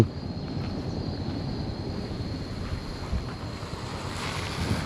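The large Nam Tha river in Laos flowing, a steady, broad rushing wash of water mixed with gusty wind buffeting the microphone, continuous with no voices.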